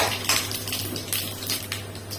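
Mustard seeds spluttering in hot oil in a home kitchen pan: close, irregular crackling and sharp pops over a low steady hum, with no voices.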